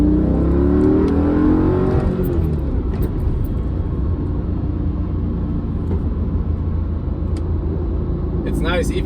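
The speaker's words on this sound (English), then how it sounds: "I still get a bit of a what's called burble, or like the little pops, you know, when you get on gear shifts" A manual-swapped Mercedes C55 AMG with quad exhaust rumbles and drones steadily from inside the cabin while someone talks over it throughout.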